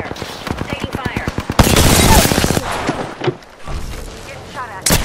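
Gunfire in the video game Apex Legends, with rapid automatic bursts, a long sustained volley and scattered louder shots, close and loud, while game voice lines play over it.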